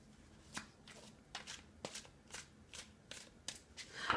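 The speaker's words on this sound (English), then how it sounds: "As I am pulling these cards," Tarot cards are shuffled and drawn by hand, producing a quiet, close series of regular riffling flutters, about a dozen in steady rhythm.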